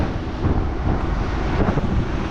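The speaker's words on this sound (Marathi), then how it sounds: "आज पहिला दिवस आहे आणि वारा पण जबरदस्त आहे" Strong wind roars steadily across the microphone aboard a fishing boat leaving a village near Mumbai at sea, a dense, loud rush with low rumble and no voices throughout.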